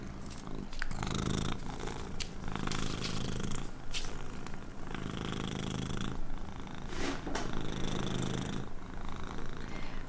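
A cat purrs steadily and close while lying across watercolor swatches on a desk, a soft continuous rumbling with rhythmic breath cycles and no talking.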